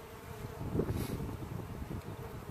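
Honeybees buzz around an opened hive during a fall checkup while drones are being evicted, a close, steady droning hum that swells briefly near the middle with no talking.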